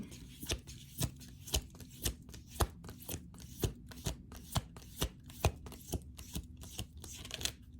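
Tarot cards shuffled by hand in a quiet room, a rapid run of crisp, close riffle snaps and slaps repeating at an even pace, with occasional louder strikes as the deck is squared.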